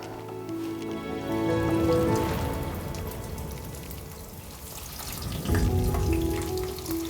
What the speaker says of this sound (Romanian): Punem pârjoalele la prăjit.